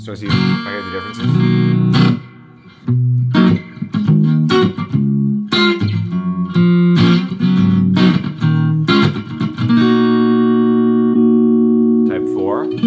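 Electric guitar on a novel instrument with a detented pickup selector switched to type 3, strummed chords and picked notes close and loud, ending on a long sustained chord that rings out.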